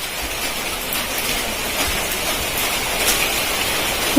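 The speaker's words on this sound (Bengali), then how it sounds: "দেখো বৃষ্টিটা হচ্ছে" Steady rain falling outdoors, an even dense hiss of drops on surfaces throughout, fairly loud and close, with no other sounds or voices.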